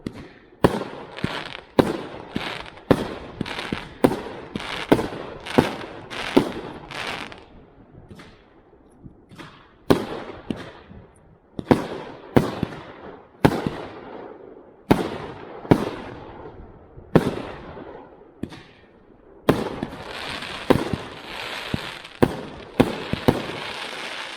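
An old Klasek "STORM" angled firework battery fires a long series of loud launch shots with sharp thumps and crackling, at uneven intervals and with short pauses, and ends in a rapid, denser finale.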